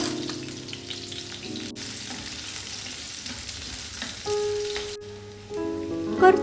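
Onion and green chili sautéing in a mix of ghee and oil, a continuous soft sizzle with occasional stirring scrapes, close by and steady, with a faint tonal hum in the background.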